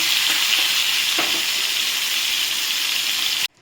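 Shrimp crackle in hot oil in a pan, a close, steady, loud sizzle with a couple of faint stirring knocks, cutting off abruptly at the end.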